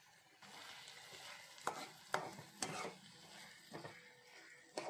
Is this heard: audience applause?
no